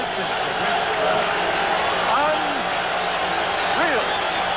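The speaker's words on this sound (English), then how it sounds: "What an ovation! Listen to this crowd." A packed boxing arena gives Roberto Duran a loud, continuous ovation before his bout with Sugar Ray Leonard, a dense roar of cheering and applause with occasional whistles and yells rising above it.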